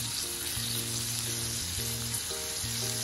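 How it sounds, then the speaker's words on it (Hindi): Green chillies and roughly chopped coriander shallow frying in a pan, a steady close sizzle and crackle of hot oil running throughout with no talk. "इन सभी चीज़ों को हम थोड़ा सा शैलो फ्राई करेंगे, जब तक इससे से सॉफ्ट ना हो जाए।"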